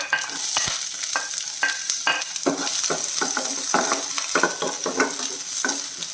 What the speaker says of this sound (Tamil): மீடியம் ஃப்ளேமில் வச்சு வதக்கிடலாம்